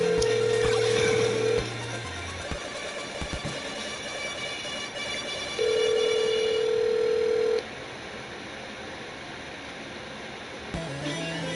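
A phone call placed over a line plays a ringback tone: two long, steady buzzing rings about four seconds apart, loud and clear over a dense, busy background.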